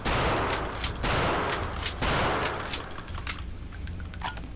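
MG 42 machine gun in Wolfenstein fires aimed bursts of rapid, close, loud rattling shots, three dense volleys in quick succession, ending in scattered tapering shots.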